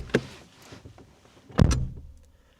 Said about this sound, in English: the doors do feel a little bit tinny